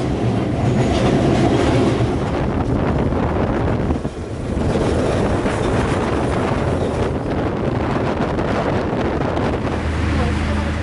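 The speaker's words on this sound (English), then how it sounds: "The train passes through many traditional kampungs along the way," East Coast Shuttle train in Malaysia rumbling along the rails, a loud continuous rattling and clattering with wind roar and a faint voice underneath, recorded from inside the moving carriage.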